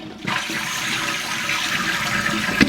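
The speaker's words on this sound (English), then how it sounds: "So if we flush it," A toilet whose tank will not refill is flushed, letting out a sudden, close, loud rush of water that keeps surging for a couple of seconds.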